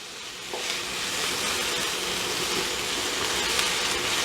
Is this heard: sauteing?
yes